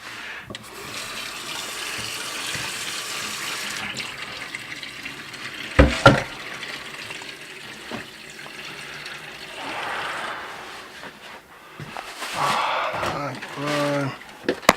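Water running from a tap indoors, splashing in bursts amid clatter and handling noises, with people talking throughout.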